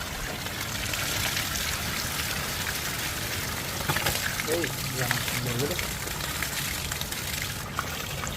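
Backwash water heavy with trapped iron pours out of a water filter in a continuous, hissing gush, with faint voices briefly audible beneath the flow.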